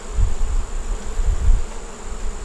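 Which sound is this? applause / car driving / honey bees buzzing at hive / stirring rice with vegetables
honey bees buzzing at hive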